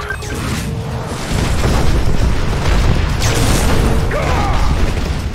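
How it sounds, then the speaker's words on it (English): Missile launch and explosion in the real-time strategy game Mental Omega, Soviet side: a sustained, loud, rumbling roar with booming bursts and mechanical clatter, building and holding for several seconds. "Missile launch confirmed"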